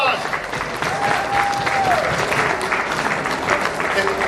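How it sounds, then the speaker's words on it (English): Audience at a world record chainsaw juggling show at the 97th Annapolis Valley Exhibition breaks into a big round of sustained applause, steady and fairly loud throughout, with a voice briefly audible over the clapping. "Give a big round of applause."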